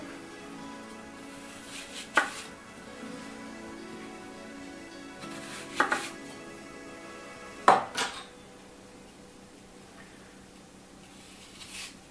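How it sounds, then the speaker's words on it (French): A knife cuts apples in half for an Alsatian apple tart. Three separate sharp cutting knocks land on a board several seconds apart, with quiet handling noise between them. Nobody speaks. "Ensuite, opération pomme. On coupe en deux."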